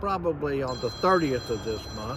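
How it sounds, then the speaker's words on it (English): A telephone rings with an incoming call at a cabover truck parts yard, its steady high electronic tone running beneath close, continuous talk from a man. "That's a phone call."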